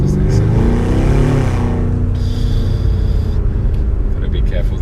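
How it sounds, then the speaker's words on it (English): Loud, close exhaust revving from a 720 bhp 2019 BMW M5 Competition with AC Schnitzer ACS5 tuning, rising in pitch, then settling into a steady rumble with road noise. "Oh, listen to that exhaust."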